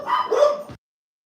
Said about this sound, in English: Okay, the dogs are starting to hush.